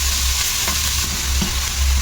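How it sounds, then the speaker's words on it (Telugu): Grated carrot fries in a pan for carrot payasam, a loud, even sizzle that stays close and continuous throughout. "ఇప్పుడు క్యారెట్ తురుము వేసుకుని వేయించుకోవాలి."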